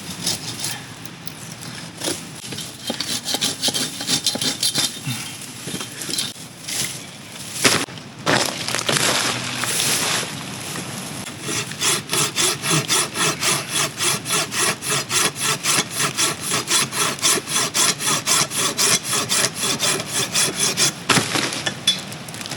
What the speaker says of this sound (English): So if you found some standing deadwood you wanted to chop up for firewood,